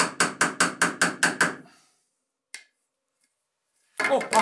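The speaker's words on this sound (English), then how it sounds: "I heated up the shaft and hammered it in." Seven quick, evenly spaced metallic hammer blows ring out as a heated metal shaft is driven into a 3D-printed paddleboard thruster part, followed by silence, a single faint tap, then a burst of clattering noise.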